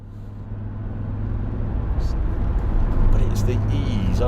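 A 1981 Audi Coupe Quattro drives in circles, its engine hum building steadily in loudness with a low tonal drone and tyre noise, heard from inside with a voice talking over it.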